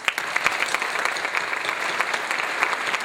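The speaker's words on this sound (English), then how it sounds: "so we can give them one more round of applause." A gala audience applauds warmly, a steady close crowd of hands clapping with crisp individual claps standing out, continuous and even without a pause.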